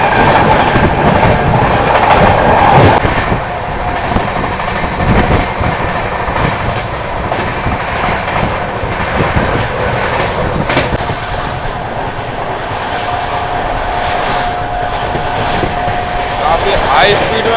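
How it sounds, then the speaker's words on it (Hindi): Humsafar Express passenger train running at about 130 km/h between Gorakhpur and Anand Vihar, heard from inside as a loud steady rumble with rail clatter and faint wheel squeal, while someone speaks over it. "अपनी ट्रेन अब देखे आप 130 की स्पीड पर चल रही है"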